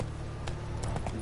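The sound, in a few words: hooves of the horse Roach in The Witcher video game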